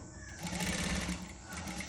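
A sewing machine stitches a saree blouse, running with a steady, close, continuous mechanical whir and rapid needle chatter for the whole stretch.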